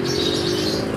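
Canaries and lovebirds in a bird shop chirp in a brief, busy chorus of overlapping calls, with wing-flapping mixed in, close and fairly loud.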